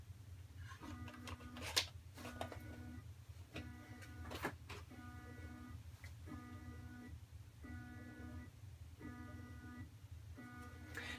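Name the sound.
stepper motor running on Arduino shield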